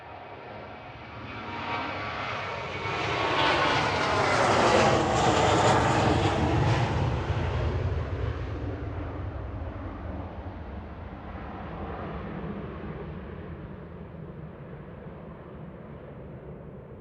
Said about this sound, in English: A321 Classic there in the Star Alliance